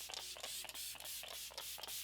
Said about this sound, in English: Just going to spray this all over the skin.